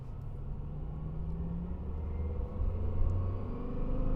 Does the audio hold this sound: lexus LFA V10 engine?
yes